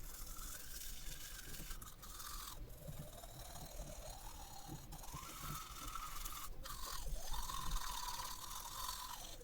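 A toothbrush scrubs teeth fitted with bottom braces and bite blocks in a quiet, close, continuous scratchy rhythm of small circular strokes, lasting the whole stretch with slight pauses.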